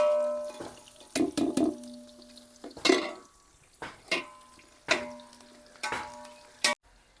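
Onions browning in oil in a pan for mushroom biryani, a soft steady sizzle broken by repeated clinks and scrapes of a spoon stirring against the pan, close and without talk.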